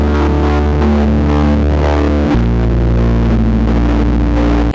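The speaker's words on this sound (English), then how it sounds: "I'm going to use this on the bass strings of my harp" Low harp bass strings played through a CMOS fuzz pedal from Cosmodio Instruments, heard alone as a loud, sustained, distorted drone with thick buzzing overtones and one clear note change midway.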